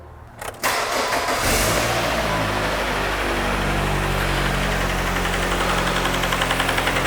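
A 2003 Nissan 2.5L engine cranks, catches and settles into a steady, loud idle, with a fine rapid ticking from the valve lifter buckets running under the engine drone.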